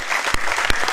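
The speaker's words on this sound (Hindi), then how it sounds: "वाह, आपकी तालियां" Audience applause at a Hindi poetry recital, steady clapping with a couple of sharp louder claps standing out, close and lively with no speech over it.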